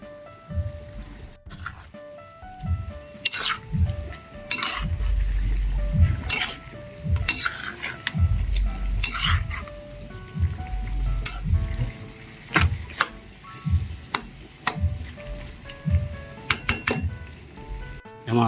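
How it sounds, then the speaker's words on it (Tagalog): Chicken kaldereta simmers in a pot with garlic, onion and fish sauce, bubbling and sizzling steadily while a utensil scrapes and clinks against the pan at intervals. "Kumukulo na."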